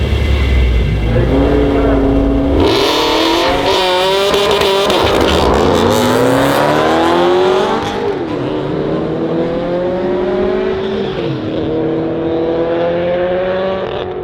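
A car with a stock FA engine runs on a race track during a track day, its engine loud and close, revving up and shifting through rising pitch sweeps before easing off.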